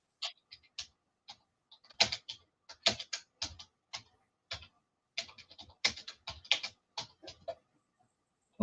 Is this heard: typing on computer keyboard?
yes